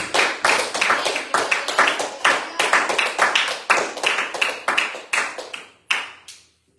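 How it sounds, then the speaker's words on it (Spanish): A church congregation claps together in bursts of quick, rhythmic hand claps, fairly close and loud, tapering into a few scattered claps and then silence near the end. "Denle un fuerte aplauso al Señor Jesús"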